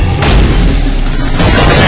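A frag grenade detonates in BioShock 2, a loud booming blast followed by a rolling, noisy rumble that fills the short stretch.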